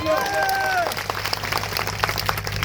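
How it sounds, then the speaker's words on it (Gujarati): A crowd at an outdoor political gathering in Savali, Narmada, applauds the police officers with scattered, fairly thin clapping. A voice is heard at the start. "અહીંયા પોલીસ અધિકારીઓ આપણી વ્યવસ્થામાં ઉભા છે, એમના માટે જોરદાર તાળીઓ પાડી લો"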